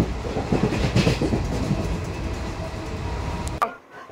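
Santragachi–Puri superfast special train running across the Kolaghat bridge, heard from inside a sleeper coach: a steady loud rumble with rhythmic clatter of wheels, no voices, dropping off abruptly near the end.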